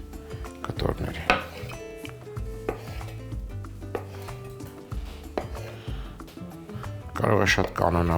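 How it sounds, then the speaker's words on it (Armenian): A knife chops a tomato into pieces on a board while making a chicken, mushroom and lavash quesadilla, with irregular close taps and knocks over a steady background of other sound. "Կտրատում ենք այսպիսի կտորների"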